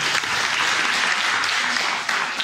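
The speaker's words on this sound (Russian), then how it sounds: "Аплодисменты еще раз." Applause from an audience at a creative talk event in Nalchik, dense steady clapping filling the room throughout, without pause.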